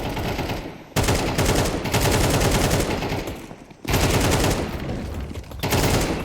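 AK rifle fire in a Counter-Strike match at a professional major: loud, rapid automatic bursts in three long strings separated by short gaps, close and dominant with no talking.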